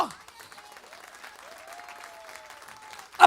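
Congregation at an evangelical church service clapping steadily and fairly softly under a sustained held musical tone, ending in a sharp louder burst.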